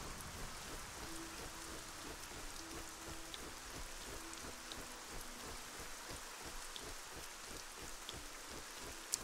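Steady, soft rainfall in the video game ArcaniA: Gothic 4 patters continuously on surfaces, with faint distant rumbling underneath.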